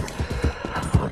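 A horse's hooves thud in a quick, uneven rhythm as it gallops in the video game Red Dead Redemption 2, a brief burst of soft beats at moderate volume.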